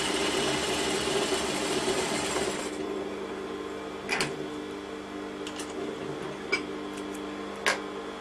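A sewing machine runs steadily while stitching a seam, a close, even mechanical whir that stops after a few seconds, leaving faint ticks and light clicks in a quiet room.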